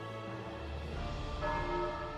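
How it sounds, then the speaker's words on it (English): A bell in the video game The Elder Scrolls Online rings out with a sustained metallic tone, one strike swelling again partway through as the resonant hum lingers, heard clearly on its own. "I'll continue to ring the bell until help arrives."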